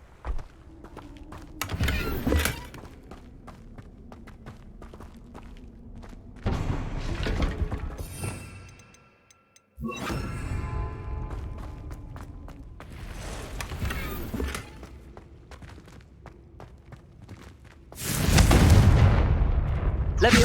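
Booming blasts from fiery Confringo spells in the Hogwarts Legacy video game erupt over a long stretch, several heavy explosions with crackling debris and a loud closing burst, separated by a brief silent gap.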